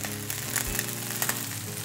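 Potatoes fry crisp in fat in a pan for Bratkartoffeln, giving a dense, steady sizzle close up with faint low clatter underneath.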